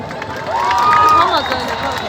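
An audience in Gyumri applauds and cheers for Grisha and Tatev, a short swell of clapping and shouting that builds and then holds, with a voice speaking over it.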